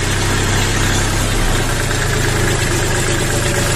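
A small XINGTAI 24 hp mini tractor engine idles loudly up close, a steady throbbing chug with rattling vibration that holds an even rhythm throughout.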